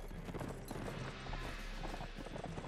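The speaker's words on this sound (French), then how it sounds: "Ah, mais y a un cavalier!" A mounted rider galloping in the video game Mount and Blade Warband, with steady, dense clip-clop hoofbeats under a busy battle din, loud and continuous throughout.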